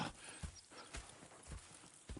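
Horses clip-clop in the Red Dead Redemption 2 video game, a few quiet, uneven hoof knocks spread across a short stretch.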